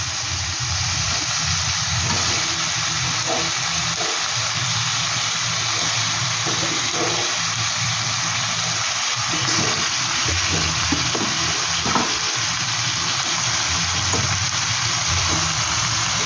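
Washed and drained chicken pieces hit a hot pan for fennel chicken, giving a continuous loud steamy hiss and sizzle that stays even for the whole stretch, with a few faint clinks underneath.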